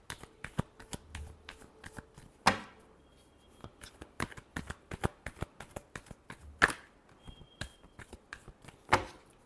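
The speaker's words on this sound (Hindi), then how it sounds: "last shuffle" Tarot cards being shuffled by hand, with a dense run of crisp riffling flicks and several louder card slaps at intervals, close and quiet with no talking.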